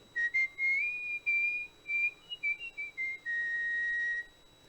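A champion artistic whistler performs a clear, pure-toned melodic run, gliding between notes and ending on a long held pitch, close and alone with no talking.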